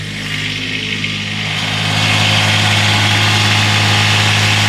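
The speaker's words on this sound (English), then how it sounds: "I wanna undo this so we can bring that tractor." A tractor engine idles nearby in a steady, loud, low rumble that swells slightly about halfway through and then holds even, with no talk.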